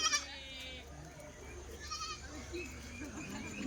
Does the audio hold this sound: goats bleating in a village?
yes